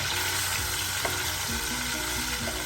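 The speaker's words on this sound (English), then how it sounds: "Once the garlic starts cooking, what I do is I simply smash it up with the back of my spoon." Garlic frying over medium heat in a pan, a steady close sizzle with a faint tap partway through as it is crushed with the back of a spoon.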